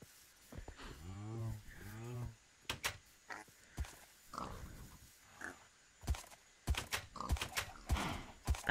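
A Minecraft horse whinnies in two long, wavering neighs early on, followed by snorts, clip-clop steps and assorted game clicks, fairly quiet with some animal grunts mixed in.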